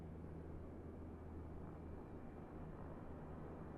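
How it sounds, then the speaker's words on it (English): Distant aeroplanes in Microsoft Flight Simulator near Honolulu International Airport, Hawaii, heard as a faint, steady low engine drone throughout, with no voices. "You can hear aeroplanes, but you can't see them."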